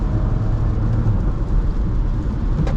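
Porsche Macan S engine roaring steadily under hard throttle, a dense low drone from inside the cabin running unbroken across the stretch without a clear upshift break.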